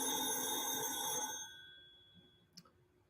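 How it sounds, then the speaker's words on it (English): Loud landline house phone ringing indoors, a sustained electronic tone that cuts off partway and leaves a quiet room with a faint click. "house phone. It is loud and it rings."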